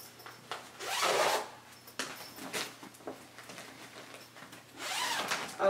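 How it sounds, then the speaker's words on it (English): A small zippered organizer bag for hair supplies is zipped, several close raspy zipper pulls in bursts with short pauses between them. "Oh, but it zips all the way."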